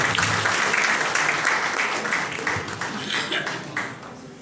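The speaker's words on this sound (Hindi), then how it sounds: "जोरदार ताली के साथ सर का स्वागत कीजिए।" An indoor audience breaks into sustained applause to welcome a speaker at an event in India, loud and close at first, then gradually thinning out.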